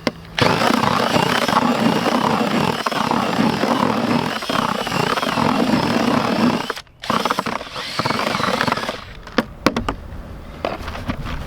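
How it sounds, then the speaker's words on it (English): A power drill whirs steadily and loudly, churning a thick fishing groundbait mixture with micro pellets, with a brief pause before restarting in shorter bursts. "grab my drill again"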